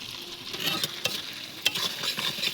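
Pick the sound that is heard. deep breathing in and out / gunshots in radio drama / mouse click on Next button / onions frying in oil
onions frying in oil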